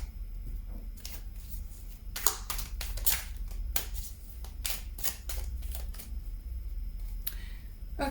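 Tarot cards being shuffled by hand, a run of quick papery riffles and soft slaps in short irregular bursts, close and fairly quiet, with no talk.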